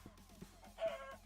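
Chickens in the Minecraft video game give a few quiet clucks and then a short louder squawk, faint and close, with no voices.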